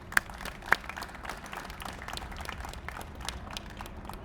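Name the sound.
crowd applause at park ground breaking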